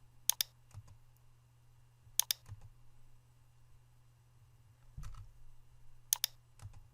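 A computer mouse gives sharp, close clicks in quick pairs at spaced intervals over a low steady hum, with no talking.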